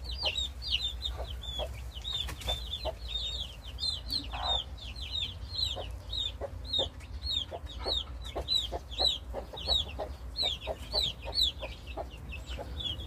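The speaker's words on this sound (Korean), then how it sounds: "어미 닭은 꾹꾹꾹 소리를 내며 병아리들을 몰고 이리저리 몰고 다니고요." Mother hen clucking while herding Gold Brahma chicks outdoors, a repeated soft low clucking under a dense stream of high chick peeps and chirps, with a steady low background hum.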